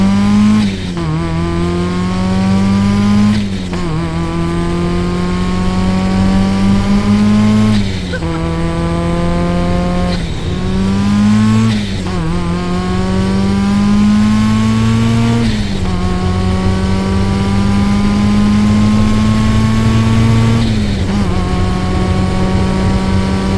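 Supercharged Mazda MX-5 Miata accelerating hard, engine note climbing repeatedly through several gear changes with brief dips between, loud and steady from inside the car over twenty-odd seconds.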